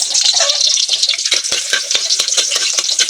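Chopped garlic sizzles and spits in hot oil in a pan for a provincial-style bamboo shoot adobo, a steady close crackle broken by sharp scraping stirs and pops.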